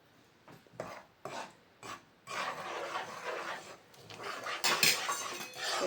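Wheat flour stirred into melted ghee in a pan for gor papdi: a utensil scrapes in a few short strokes, then settles into continuous, close rasping stirring against the metal.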